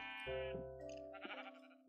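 Minecraft sheep bleat twice in a game farm scene, clear and close, with harmonic cries and no talking.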